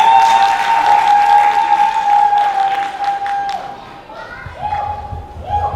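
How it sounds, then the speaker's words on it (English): A school audience in a hall at a high school spring concert applauds the students. The clapping is spread out and moderately loud, with a steady tone ringing through it. A voice speaks as the clapping fades near the end. "Let's give them a round of applause real quick."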